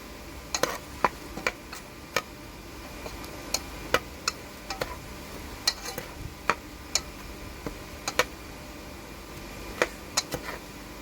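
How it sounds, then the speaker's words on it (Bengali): Blended spice paste of cumin and coriander frying in a pan for a soy chunk dish, with a low sizzle under irregular sharp ticks and scrapes of a spoon stirring against the pan. "এখন ওগুলো আমি ভালো করে মশলা ভেজে নেবো"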